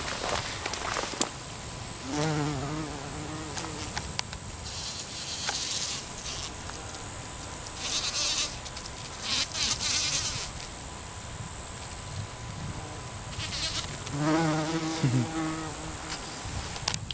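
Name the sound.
bumblebees buzzing around plants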